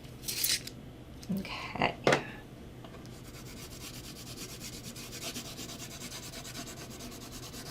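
Colored pencils being sharpened by hand, giving a few close, brief grinding and scraping strokes, then a low steady rubbing hiss. A short spoken word comes in between.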